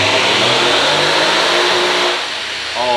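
A Whipple-supercharged 2018 Ford F-150 V8 roars hard at full throttle on a dyno pull, loud and close, with rising harmonics and a brief drop in level near the end.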